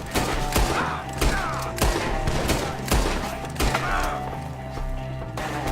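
Gunfire in the Western action game Red Dead Redemption 2 rings out in a firefight against enemies up in the trees, with repeated loud shots and thuds every half second or so, close and continuous.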